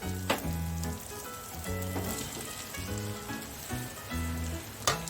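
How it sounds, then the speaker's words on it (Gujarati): Crushed peanuts and potato pieces fry in a pan with a steady crackling sizzle, sounding close, while music with a repeating melody plays over it and a couple of sharp clicks stand out. "તો હવે આપણે તેમાં ક્રશ કરેલા સિંગના દાણા એડ કરી દઈશું અને સાથે જ બટાકાના પીસ કરેલા પણ એડ કરી દઈશું."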